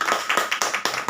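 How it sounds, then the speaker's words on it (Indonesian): A small group at a meeting clapping, a few quick sharp claps in an even rhythm, close and fairly loud, with no talk. "Ya, tepuk tangan."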